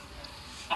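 A Minecraft chicken gives a single short, quiet cluck right at the end of a brief, otherwise near-silent moment of gameplay.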